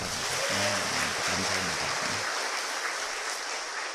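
A church congregation applauds a choir ensemble after its hymn, steady broadband clapping filling the room throughout, while a voice briefly speaks over the start before the applause tails off.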